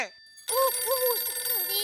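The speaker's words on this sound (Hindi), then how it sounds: "अरे मेरे फोन में सोडी का फोन आ रहा है बात करने के लिए" A phone rings with an incoming call, a warbling electronic ringtone that cuts in loudly after a brief quiet and repeats its rising-falling pattern in a domestic comedy scene.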